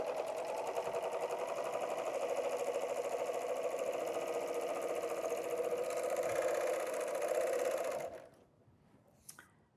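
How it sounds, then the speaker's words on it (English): An overlocker serges along folded Kraft-tex in a steady, close, continuous mechanical whir for about eight seconds, then stops, leaving near silence with a faint click. "and start sewing."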